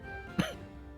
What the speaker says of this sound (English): And cough in his face, apparently.